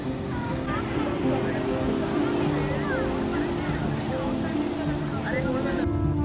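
Water and waves at a sunset spot in Mumbai make a constant washing rush under a low engine-like drone, with faint voices in the background throughout.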